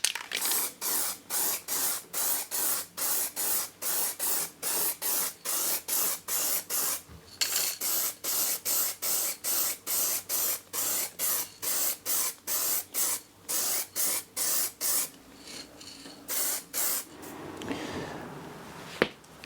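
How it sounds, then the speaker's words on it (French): A can of colored spray paint fires repeated short, hissing bursts in a regular rhythm, close and loud, ending in a longer, rougher spray with no voices. "Alors ici c'est à la bombe de couleur, mais c'est kiff kiff"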